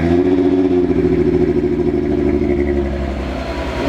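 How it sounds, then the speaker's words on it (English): A 1998 VR6 car engine cold-starts and idles loud and close, a steady low rumble with a fast mechanical clatter running through it and no talking. "Here's a cold start."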